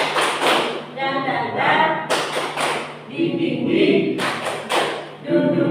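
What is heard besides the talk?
rhythmic clapping chant (tepuk semangat) by a group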